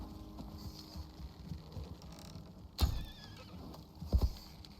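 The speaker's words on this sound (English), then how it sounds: "Yep, going after the murder horse." A horse in the survival game Icarus neighs and whinnies with clip-clopping hooves, a short whinny near the middle and another burst near the end over low background game noise.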